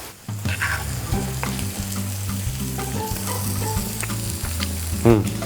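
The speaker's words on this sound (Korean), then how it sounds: "버터가 다 녹으면 아까 손질해 두었던 새우 넣을게요" Shrimp sizzle and fry in melted butter in a hot pan while a risotto cooks alongside, a steady close crackle with faint utensil clinks and a brief louder scrape near the end.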